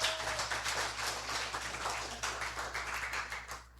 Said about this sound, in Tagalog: Pwede ba isang malakas sa palakpak para kay Lord?